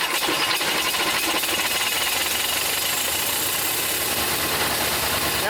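Close, steady running of a Simplicity Sunstar garden tractor engine, a complete motor, with a constant rough mechanical clatter and drone at even volume throughout.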